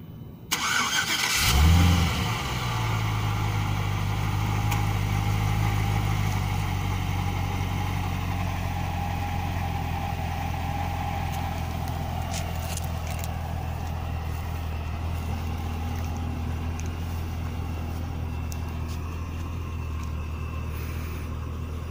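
A 2010 Cadillac CTS-V cranks and fires up with a loud burst, then settles into a steady, deep idle that continues evenly up close with no talking.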